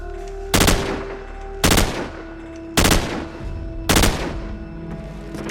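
Assault rifle gunfire in Call of Duty 4, four loud, sharp bursts spaced about a second apart, each cutting off abruptly with a short ringing tail, no talk.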